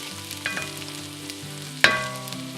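Hot dog pieces sizzle and fry in a pan while browning, a steady crackle close up with a sharp burst of spattering as they are stirred, and no talk.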